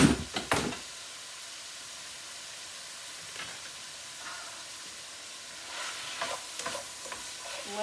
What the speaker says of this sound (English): Let this saute a little bit and get brown